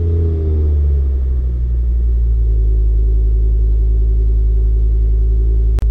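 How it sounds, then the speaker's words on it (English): A car engine starting in neutral, then settling into a steady low idle rumble that holds evenly, close and loud, ending with a brief sharp click. "Let's turn the car on now and I'll show you exactly what it does."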